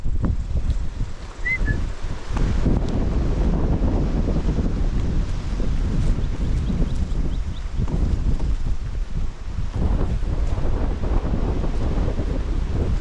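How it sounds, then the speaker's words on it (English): Strong wind buffets the microphone with a heavy, rumbling roar that gusts and dips continuously, loud and close with no talking. "It is very windy."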